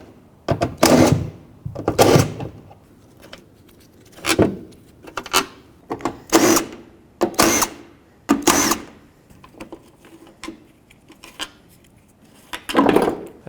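On a 2001-07 Toyota Sequoia, tools work on the 10mm bolts holding the wiper arm pivots, giving a series of loud, sharp metallic clanks and rattles spaced a second or so apart, with no talk.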